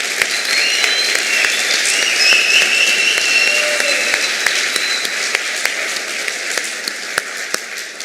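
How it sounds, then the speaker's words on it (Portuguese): Audience applause fills the space, a dense, steady wash of many hands clapping at close range for the full stretch, with a few sharper individual claps poking through; nobody speaks. "Não, uma salva de palmas para vocês."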